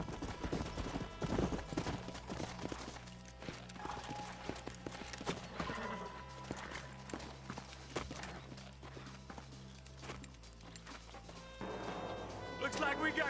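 Horse hooves clip-clop along in Red Dead Redemption, a rhythmic series of fairly close hoofbeats mixed with game music and scattered other game sounds, with occasional whinnies.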